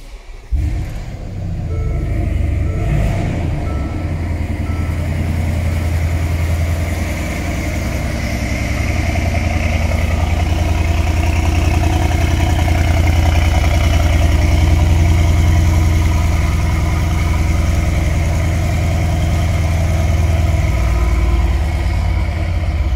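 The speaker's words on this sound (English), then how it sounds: "Get ready for an awesome AMG exhaust tune." A deep, throaty V8 exhaust of a 2016 Mercedes-Benz GL63 AMG SUV idles steadily, a loud continuous low rumble that holds even throughout with no voices.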